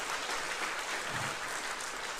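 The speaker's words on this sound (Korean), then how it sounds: "우리 성가대를 축복하시고 가난한 학단을 축복하신 주님께 감사의 박수 드립시다" A church congregation applauding its choir at an Easter service: dense, steady clapping from many hands filling the room, continuous and fairly loud with no pauses or voices standing out.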